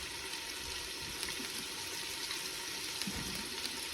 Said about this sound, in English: You hear it sizzling?